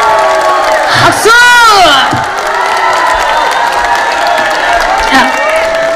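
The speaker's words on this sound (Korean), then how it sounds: "박수!" A crowd cheers and whoops loudly with applause, including a rising shout, while voices talk over the noise around a Korean singer.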